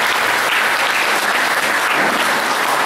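An audience claps steadily through a teen meditation session led by Guru Gede Prama, a dense, even wash of applause that is loud and continuous with no voices standing out.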